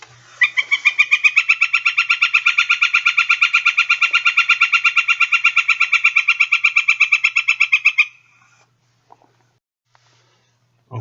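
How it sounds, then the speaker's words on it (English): A northern flicker gives a single long, steady run of rapid, evenly spaced flick notes lasting about eight seconds, loud and close with no other sounds, then falls silent. "here are those flick notes of the northern flicker."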